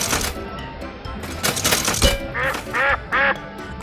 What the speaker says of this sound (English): It's a duck, and it says quack.